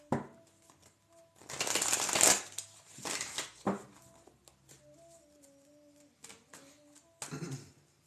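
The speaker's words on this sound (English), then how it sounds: "I'll shuffle these cards and keep it flowing." Several bursts of tarot cards being shuffled close by, riffling and rustling in short spells separated by quieter pauses with faint tones.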